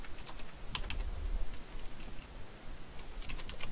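Typing on a computer keyboard, with a quick run of close, light clicking keystrokes and brief pauses between them, and no talking.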